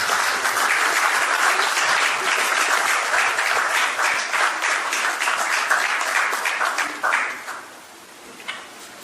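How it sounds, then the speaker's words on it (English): A room of guests at a Nigerian British gala dinner applauds loudly and steadily for several seconds, the clapping thinning and fading out near the end. "Please, ladies and gentlemen, a round of applause for Mr. Jerry Ejikeme."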